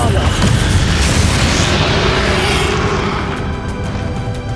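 A Bombarda explosion spell cast during the Hogwarts Legacy final boss fight lands as a loud, close boom with a rumbling tail that fades over a few seconds.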